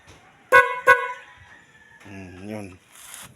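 Car horn on a vehicle with an undercharged battery: two short, sharp honks, then a weaker, wobbly, drawn-out tone, all close by.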